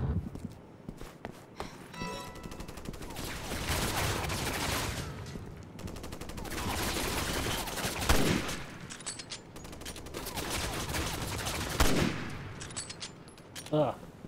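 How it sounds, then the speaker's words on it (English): Gunfire aimed at J'avo enemies in Resident Evil 6, repeated shots and bursts spread across a dense, busy game mix with footstep-like clatter and voices talking over the action. "Okay, let's shoot. I have to shoot these stupid Javos."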